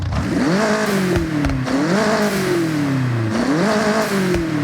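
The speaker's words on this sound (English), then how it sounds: "this is what a race exhaust sounds like" A race car exhaust in the video game Forza Horizon 6 revs repeatedly, rising and falling in pitch, loud and continuous with a raspy, slightly synthetic engine tone.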